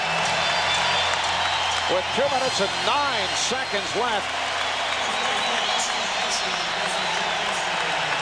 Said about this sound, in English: this crowd responding to Stephon Marbury